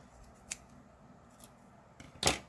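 Scissors cut through paper for a fitness planner, three quiet, close snips spaced apart, the last one louder and longer, in a hushed room without talking.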